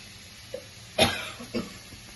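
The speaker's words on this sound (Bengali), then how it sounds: "তাই কাশি চলে এসছে লঙ্কাগুলা খুব ঝাল" A single short cough, with a couple of fainter throat sounds around it, from a cook irritated by very hot chillies while making a bottle gourd seed bharta tempered with garlic and black cumin in a quiet kitchen.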